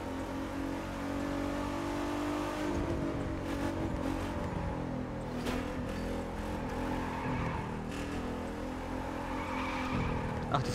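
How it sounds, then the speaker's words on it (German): Car drifting in The Crew 2 racing game, a steady loud engine drone with tire squeal and skidding swells running throughout, no talking over it. "Oh, der kann gut driften."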